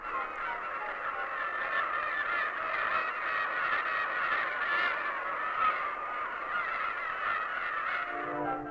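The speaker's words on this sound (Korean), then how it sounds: "물이 빠지기 시작한 바다에서 새들이 날아오른다." A flock of birds lifts off over the sea as the tide begins to go out, a dense, continuous chorus of honking, goose-like calls holding steady from start to finish with no voices.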